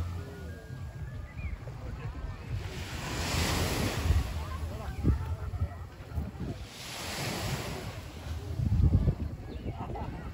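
Ocean waves rolling in at Playa Santa beach in Guánica, Puerto Rico, two broad swells of surf rising and falling over steady wind buffeting the microphone, close and moderately loud.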